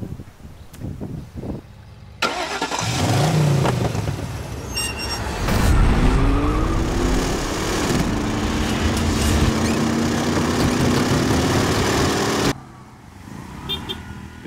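A tuk-tuk engine, sound-designed to resemble a sports car, revs up loudly and holds a strong roaring drone with rising pitch sweeps for about ten seconds, then cuts off abruptly, leaving quieter background.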